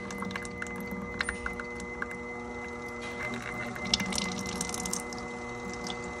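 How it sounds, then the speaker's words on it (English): A one-man polyurea pump runs steadily, drawing oil through with a constant mechanical hum and tonal whine, while small wet drips and squishing sounds come and go over it, at moderate level with no talk. "He's gonna pump his oil through."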